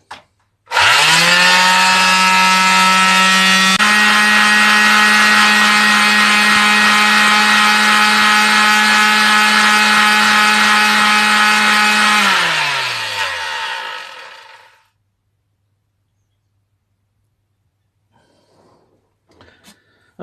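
A power sander works over a wooden router-cut project, running as a loud, steady whine for around twelve seconds before winding down and falling silent.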